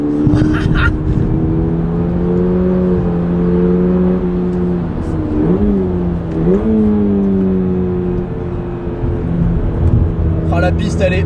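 Toyota GR86 sports car on a race track, its engine droning steadily with shifting pitch as it accelerates and eases, close inside the cabin while someone talks over it.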